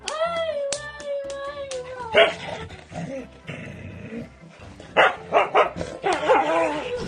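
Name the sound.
husky dog barking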